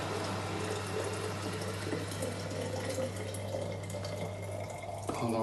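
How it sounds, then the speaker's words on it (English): Steady stream of boiling water pouring into a jar to sterilize it, filling it up, with a low constant hum underneath and a small clink near the end. "So to sterilize, just pour in your boiling water."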